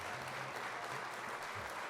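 Audience applause at an awards gala as a family comes up to receive an award, a steady, even wash of clapping at low level that continues without pause and carries no talk.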